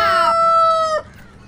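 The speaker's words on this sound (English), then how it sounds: "R for rooster." A single rooster crow, loud and close, a bright rising call that holds briefly and then breaks off.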